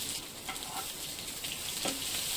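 Onions sizzle steadily in hot coconut oil with mustard seeds for a village-style drumstick curry, a constant crackling hiss with occasional brief stirring scrapes.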